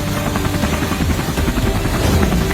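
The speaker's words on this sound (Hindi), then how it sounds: "अरे वहाँ तो एक हेलीकॉप्टर भी उड़ रहा है।" A helicopter flying, its steady loud rotor thrum and engine roar filling the whole moment without pause, with no voices over it.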